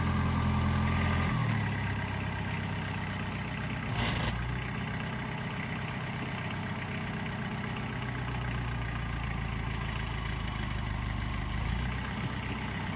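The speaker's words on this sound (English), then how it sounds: "now we're using this little other tractor up here, and Dakota had to strap the spear to it" A small farm tractor engine idles steadily, a constant low rumbling drone close by, with a brief slight shift early on and no voices.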